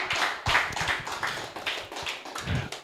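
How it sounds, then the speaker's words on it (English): An audience at a high school educational seminar claps in a brisk round of applause, a dense patter of hands heard up close and fairly steady throughout. "A warm round of applause for Mr."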